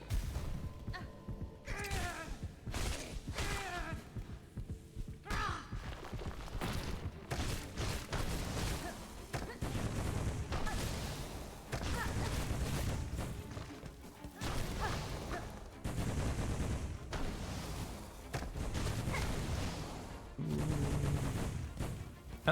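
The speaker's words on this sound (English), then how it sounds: "I don't think these explosions hurt extra." Repeated explosive bursts and impacts boom through Hollow Knight: Silksong combat, dense and loud, coming in rapid clusters over about twenty seconds with little pause.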